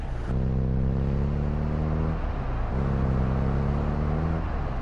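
A vehicle in the video game Warzone Plunder pulls away, its engine droning steadily and revving up with rising pitch, loud and close throughout, with a brief dip in the middle before climbing again.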